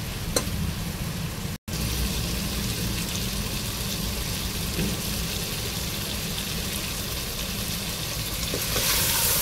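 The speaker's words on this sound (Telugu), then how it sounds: "ఇది కూడా కొద్దిసేపు వేయించుకోవాలి" Raw mango pieces fry in oil in a pan for a sour mutton curry, giving a steady, close sizzle with light crackle throughout, broken by one brief dropout, and no talk.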